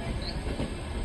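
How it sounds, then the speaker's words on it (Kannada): A passenger train on the Davanagere to Goa line runs steadily along the rails near Kulem station, giving a continuous loud rumble with a faint metallic squeal. "ನಮ್ಮ ಟ್ರೈನ್ ಈಗ ಕುಲ್ಯಂ ರೈಲ್ವೆ ಸ್ಟೇಷನ್ಗೆ ಬಂದಿದೆ."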